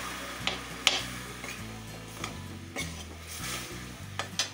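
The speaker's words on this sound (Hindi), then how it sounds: "गुड़ भूनने के बाद इस गुड़ को हम अच्छे से पिघला लूँगी मैं इसको" Jaggery melting and roasting in a pan with a little water and ghee, giving a soft steady sizzle with scattered scraping stir clicks and light metallic knocks, close up and alone, over low background music.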